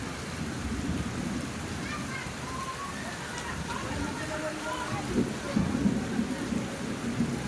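Steady rain pouring down in hot weather, a constant dense patter with occasional rumbling beneath, while people talk quietly over it.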